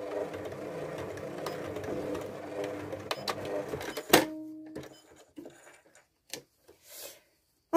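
A sewing machine stitches a zipped pocket in a rapid whirring run of about four seconds, ending with a clunk, followed by a few faint handling sounds and brief quiet, all close up.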